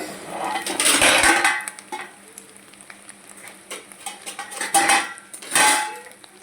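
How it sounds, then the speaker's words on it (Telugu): A metal lid clatters onto a frying pan of fish, with a few loud clanks and scrapes among quieter sizzling, the pan knocking sharply again toward the end. "మూత పెట్టేసుకుందాం"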